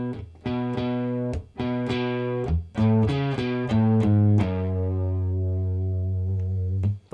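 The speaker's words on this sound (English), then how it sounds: "So all together that last section slowly sounds like this." Distorted electric guitar plays a riff slowly, with repeated chugging low notes followed by a descending run that ends on a long sustained note, heard alone at a steady level.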